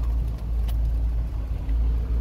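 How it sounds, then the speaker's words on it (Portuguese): A car driven slowly into a shaded parking spot beside a lakeshore, a close steady low engine rumble with tire noise and no talk. "Vou colocar o carro ali na sombra."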